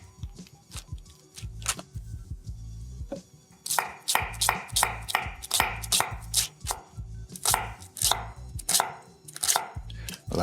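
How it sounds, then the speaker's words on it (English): A knife cuts through a cabbage on a cutting board for a Chinese vegetable soup. A few slower cuts come first, then a quick run of sharp, rhythmic chopping strokes, close and clear, with no talking. "Just gonna cut this cabbage down in half like this."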